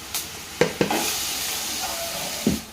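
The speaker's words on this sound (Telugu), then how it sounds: "పచ్చిమిర్చి అలాగే ఆనియన్స్ అయితే మంచిగా ఫ్రై అయిపోయాయి." Onions and green chillies frying in a pan, a continuous close sizzle broken by a few sharp scraping stirs of a spatula.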